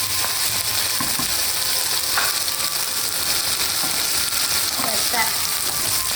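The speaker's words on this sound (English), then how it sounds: "Let that fry for a bit" About a tablespoon of ginger garlic paste fries in hot oil for chilli paneer, giving a loud, steady sizzling hiss with a few faint stirring scrapes. No one talks.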